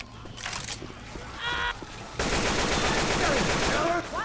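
Left 4 Dead 2 gunfire erupts in dense, rapid automatic bursts that fill the second half, preceded by a short scattered stretch. A brief honking tone cuts in partway through.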